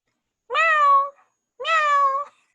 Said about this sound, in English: What does pish, pish say? Meow.